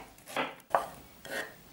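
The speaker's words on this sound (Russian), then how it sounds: "Нарежу мелкими кубиками половину средней луковицы." A knife cuts half a medium onion into small cubes on a board, giving three separate soft chopping strokes spaced apart, close and fairly quiet with no talk.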